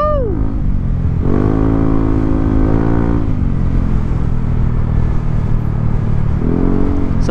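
A 2020 Yamaha NMAX scooter drones steadily while ridden, its engine note rising and falling with the throttle under constant loud wind rush.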